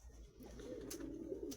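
A pigeon that has recovered from paralysis coos softly nearby: a low, murmuring call held for a moment over a quiet background, with no talking.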